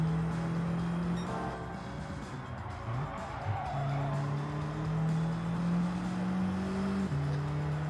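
Engine of a Volkswagen Scirocco in Gran Turismo 7, racing on an asphalt Sardegna track, drones steadily with pitch shifts as it revs and changes gear, with tire squeal and skidding mixed in throughout.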